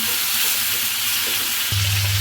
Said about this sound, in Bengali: মশলাটাকে একটু তেলের মধ্যে ভেজে নিব